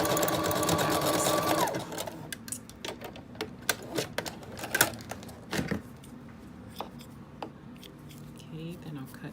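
A sewing machine runs a fast zigzag stitch on fabric for a tube top, a loud close whirring burst lasting under two seconds. Scattered clicks, fabric rustles and handling taps follow, with some quiet speech.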